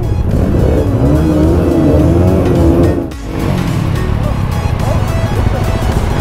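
Several motorbikes gathered for a group ride rev their throttles to warm up. A loud, close, continuous engine roar rises and falls, dips briefly midway, then surges again.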